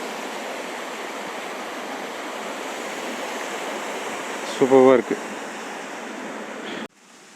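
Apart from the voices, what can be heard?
water flowing through a sluice gate at Aathuparai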